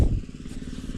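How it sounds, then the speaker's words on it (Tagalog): A motorcycle engine keeps running after a minor spill, giving a brief, low, steady rumble at moderate volume. "Umaandar pa rin yung makina natin."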